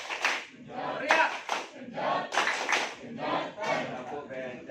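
A school crowd performs the tepuk becak clap chant, with rhythmic bursts of clapping and loud group shouting in repeated waves, close and energetic.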